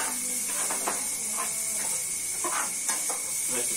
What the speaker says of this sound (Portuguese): A gente vai fritar o bacon pra ficar